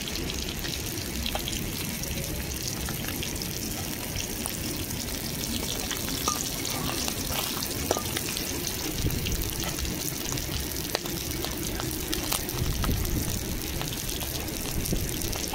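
Two dried red chillies fry in hot oil beside already fried hilsa fish, giving a steady, close crackling sizzle that runs continuously with faint stirring scrapes, and no voices.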